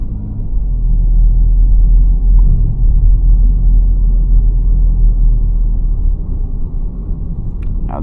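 Low steady road rumble inside a 2024 Toyota Corolla cruising at night, a constant close drone with a slight dip toward the end and no talk.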